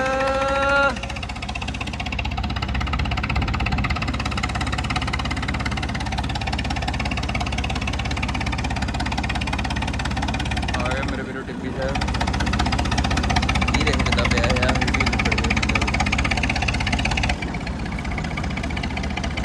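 A high-speed tractor engine runs continuously at a steady, heavy drone with a low rumbling knock, holding loud and even throughout apart from one brief dip midway; voices are heard faintly over it.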